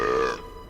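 A loud, drawn-out belch from a creature, likely a monkey, in a Hindi-dubbed Hollywood film, rumbling for under a second and fading at the end.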